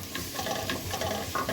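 Mild Italian sausage cooking in a pan, with soft steady sizzling and intermittent stirring scrapes, close and moderately quiet.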